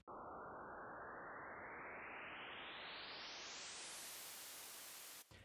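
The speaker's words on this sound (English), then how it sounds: "I've got another riser." A synth riser designed in Serum swells as a filtered white-noise sweep that climbs steadily in pitch for about five seconds, then cuts off abruptly.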